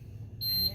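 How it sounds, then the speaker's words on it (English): A wine fridge's open-door alarm gives a single steady electronic beep that starts partway through, over low hum and faint background noise. "This thing's going to start beeping because it doesn't like to be open that long"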